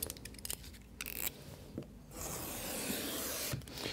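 A dry-mounted poster on dry mounting tissue is trimmed with a short series of quiet snips and scrapes, then a steady soft rasp of cutting close by.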